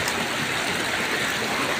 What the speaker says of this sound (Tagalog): Malakas naman po ang tubig ngayon.